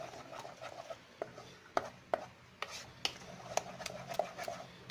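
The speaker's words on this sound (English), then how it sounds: "Just going to keep stirring it." A spoon stirs a thickened lemon mixture in a pot for a lemon poppyseed cake, giving soft irregular scrapes and light taps against the pot, fairly quiet and close.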